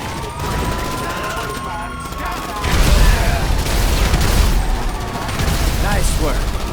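Gunfire in GTA 5 comes as dense, continuous bursts and booming shots that swell louder midway through, with a constant crackle of battle noise and voices mixed underneath.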